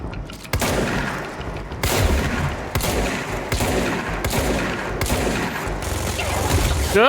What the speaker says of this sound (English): Big guy with minigun.